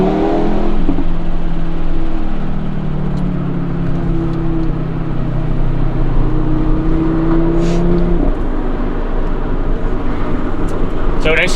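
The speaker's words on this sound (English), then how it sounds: "the cracks and the burbles from the exhaust are just so much more aggressive" A 2015 Audi RS3 Sportback with a 367-horsepower engine and four-wheel drive revs and lets off, its exhaust giving loud sustained tones with crackles and burbles, close and continuous over a busy background.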